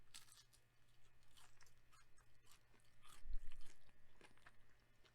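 Crackling skin from a 17-pound roast turkey, seasoned with extra salt and pepper, being chewed up close, a quiet run of crunchy bites and mouth sounds over a few seconds, no talking.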